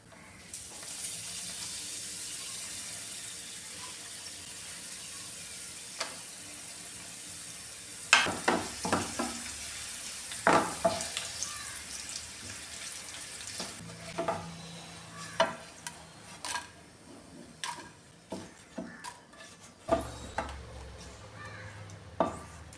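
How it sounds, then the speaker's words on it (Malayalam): Papadam frying in oil over a medium flame: a soft steady sizzle at first, then a series of sharp clacks and scrapes of a utensil against the pan, close by. "മീഡിയം ഫ്ലെയിമിലിട്ട് വേണം ഇത് ഫ്രൈ ചെയ്തെടുക്കാൻ"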